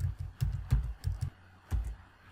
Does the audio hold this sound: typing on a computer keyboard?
yes